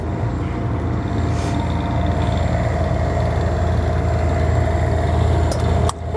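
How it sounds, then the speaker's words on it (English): An Onan Quiet Diesel 8000 generator runs on a Renegade Verona 36VSB RV, giving a steady, fairly loud low rumble and broadband drone that stays even throughout, with a brief click near the end and no talk. "This is going to be your Onan quiet diesel generator."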